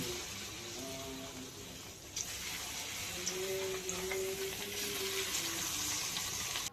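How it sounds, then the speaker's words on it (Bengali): Chicken pieces fry in hot oil in a pan, giving a steady, even sizzling hiss that runs throughout with faint kitchen tones underneath. "এবার চিকেনগুলোকে ভেজে নেব"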